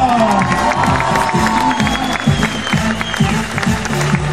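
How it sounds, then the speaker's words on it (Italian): Applause and cheering from a drag queen contest audience, loud and continuous, with a clear voice and music-like tones running through the crowd noise. "un applauso per il pubblico!"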